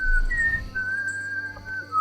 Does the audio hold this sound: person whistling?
yes